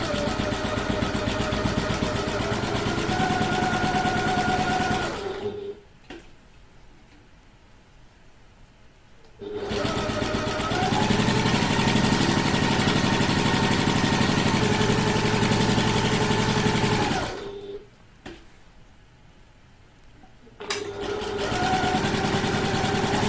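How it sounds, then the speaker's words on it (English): A domestic sewing machine stitches a handbag at regular stitch length, running in long loud steady whirring bursts of several seconds, broken by two quiet pauses before starting up again. "So let's do some sewing. So we're going to start at the top and use my regular stitch length."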